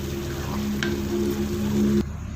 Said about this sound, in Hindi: ये आधा चम्मच गरम मसाला एंड पे हिला देंगे इस तरह से